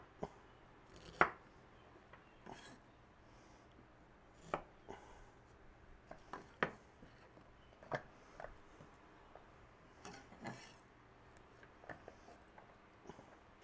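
A knife chops herbs for chimichurri sauce on a cutting board in sparse, irregular knocks. The taps are fairly close but quiet, with short gaps between them and no talking.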